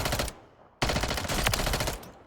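Striker 9 SMG firing in a video game: two loud, rapid full-auto bursts, a short one and then a longer sustained stream of close, dense gunfire, with a brief gap between them.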